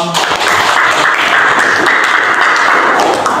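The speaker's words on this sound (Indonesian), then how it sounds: "Oke, betul, tepuk tangan dong." Dense, continuous applause from a seventh-grade classroom, many hands clapping at once in a loud, steady wash of sound.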